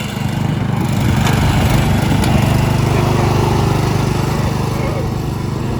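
A lawn tractor with a live rear axle runs at a steady, loud, close chugging drone, and voices can be heard faintly over it.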